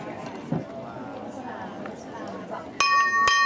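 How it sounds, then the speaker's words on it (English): During a polo match, a bell rings twice in close succession, sharp and clear, after horse hooves and crowd and commentary noise. "First bell rings, which means there's 30 seconds ticking down in this chucker"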